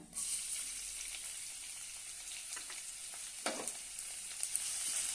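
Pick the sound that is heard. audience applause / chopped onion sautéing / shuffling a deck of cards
chopped onion sautéing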